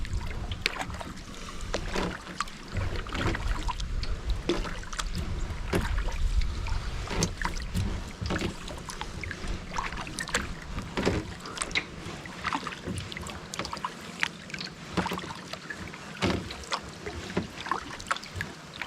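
A kayak is paddled across a lake in a state park, with steady rhythmic paddle strokes and water splashes over light wind noise, close to the microphone and with no talk.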